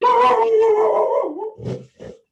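A dog howls close by in one long, loud, wavering note that falls away, then gives two short yips.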